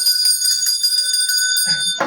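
A bell rings with sustained, bright tones that hold steadily, fairly loud, before a voice briefly cuts in at the end.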